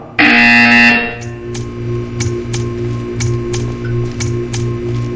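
A loud, harsh buzzer blares for just under a second in the video game Portal 2, then gives way to a steady mechanical hum with regular ticking clicks.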